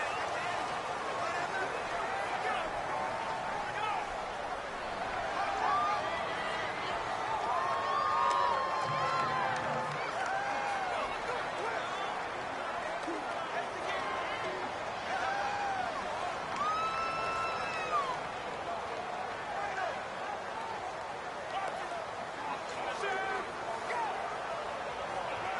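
In a Madden 19 simulation of the Bengals hosting the Chargers, the stadium crowd gives a constant loud roar with swells of cheering. Commentators talk over it throughout.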